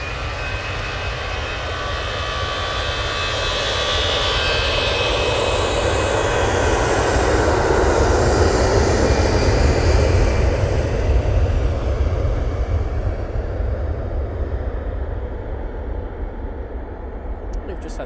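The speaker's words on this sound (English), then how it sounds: "We've just had the Easyjet A321neo arrive." An EasyJet Airbus A321neo arrives at a busy airport, its jet engines building to a loud, sustained roar that peaks and slowly fades, with talk in the background.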